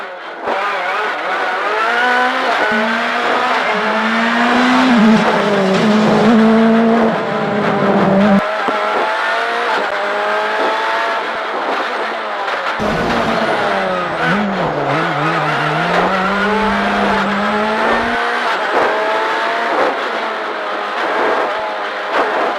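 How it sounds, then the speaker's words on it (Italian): A Ford Fiesta VRC rally car's turbocharged 1.6-litre four-cylinder engine revs and races hard, pitch climbing and dropping through gear changes, with brief lulls before roaring again. "Ford Fiesta VRC spinta da un motore Ford 1600, 4 cilindri, turbo, 350 cavalli."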